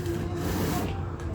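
A steady, close rasp of 80-grit sandpaper taped around a spray can, rubbing along the inside curve of a wheel well flare, continuous for the whole short stretch.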